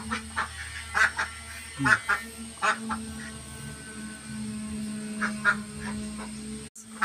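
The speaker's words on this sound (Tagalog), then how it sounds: "Yan na yung mga bagong bili kong pato." Several ducks quack in short repeated bursts close by, some calls overlapping, over a low steady background hum.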